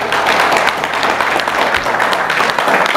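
Wedding guests break into a short round of applause, loud close clapping from a small crowd with a scattered, uneven texture and some low room rumble beneath.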